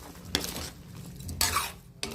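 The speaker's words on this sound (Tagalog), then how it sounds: "siyempre haluin" Potatoes and carrots with a little salt are stirred in a pan, giving two or three brief bursts of scraping and clinking utensil strokes over a quiet sizzle, fairly close.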